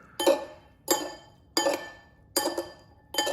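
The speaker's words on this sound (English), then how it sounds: "and now you stir it up." Pesto being stirred into pasta in a dish with a utensil, giving five evenly spaced clinking, scraping strokes against the bowl, close and fairly loud with quiet gaps between them.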